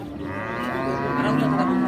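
A single long, deep moo from a cow close by at a cattle market, sustained and rising slightly in loudness, with no talking.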